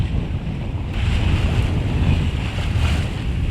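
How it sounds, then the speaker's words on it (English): Waves break on the shore along the Spanish coast in the Rias, heard as a loud, steady wash of surf mixed with wind noise, with no talk. "Wow, look at those breaking waves there."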